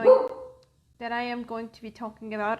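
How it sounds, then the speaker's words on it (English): One short, sharp dog bark opens, followed by a moment of silence and then a person speaking. "Excuse my dog for a moment"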